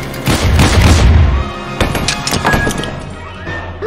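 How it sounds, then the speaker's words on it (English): Broadside cannon batteries fire in an animated sci-fi battle, a rapid burst of loud, booming blasts followed by a second cluster of heavy explosions with echoing rumble fading out. "Fire broadside batteries!"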